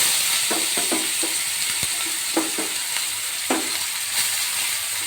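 Chopped onions frying in oil in a pan after eggs were fried in it, a loud continuous sizzle with occasional scraping stirs and small clicks, close up and without talk.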